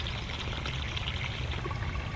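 Tap water pours and splashes steadily into a sink while brass rifle cartridge cases are rinsed clean of soap, a continuous close rushing stream with no talk.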